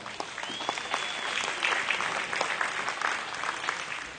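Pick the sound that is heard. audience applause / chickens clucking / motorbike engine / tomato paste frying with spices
audience applause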